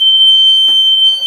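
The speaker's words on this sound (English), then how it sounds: "and the alarm goes off." The emergency exit door alarm on a school bus sounds as a loud, steady, piercing electronic tone held without a break, with a faint knock partway through.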